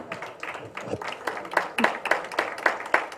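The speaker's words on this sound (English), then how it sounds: "a big round of applause to all of them" Sparse audience clapping at a dance research congress in Mumbai, a handful of distinct claps in an uneven rhythm that grows steadier and more regular, moderately close and fairly quiet.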